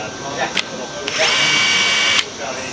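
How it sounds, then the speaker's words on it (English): A four-speed drill driver with electronic torque control whirs briefly, a steady high-pitched motor whine lasting about a second amid trade-show background noise, bracketed by short clicks. "So it's a 4-speed drill driver."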